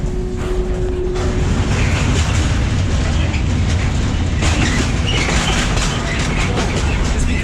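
A freight train rolls along the rails on the Balkan route, a loud continuous rumble with metallic clatter and grinding heard up close from aboard, steady throughout with no pauses.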